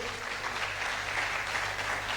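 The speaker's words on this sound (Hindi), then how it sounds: "एक बार जोरदार तालियां" Steady audience applause for an honoree at a patriotic tribute event in Rajasthan, a dense even wash of clapping lasting about two seconds without pause.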